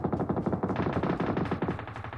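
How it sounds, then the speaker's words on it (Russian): Rapid automatic gunfire in a video game, a steady stream of loud close bursts running the full length with no talk. "Я ему специально в ноги стрелял"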